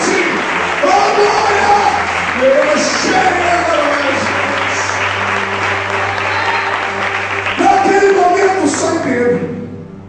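A church congregation applauds during a worship service, loud sustained clapping with a voice speaking over it and a low organ-like tone underneath.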